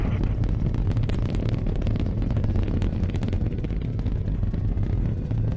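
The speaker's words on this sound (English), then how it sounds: "We have a launch commit and we have a liftoff." A rocket lifts off at launch, heard as a played recording: a dense, continuous roar of rumbling thrust that holds steady and loud throughout with no break.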